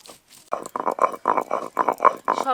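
Coriander, mint, tamarind, garlic, ginger and green chilli are ground into a paste, producing a quick, regular series of about eight close rubbing, grinding strokes after a faint start, with no speech.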